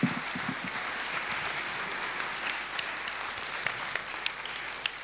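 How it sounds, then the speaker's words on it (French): Audience applause at a philosophy talk on generosity in health, a steady crowd clapping with a few louder individual claps popping out near the end and a faint low murmur underneath. "On peut les applaudir."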